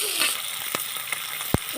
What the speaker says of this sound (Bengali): গরুর মাংসটা ভাজা হচ্ছে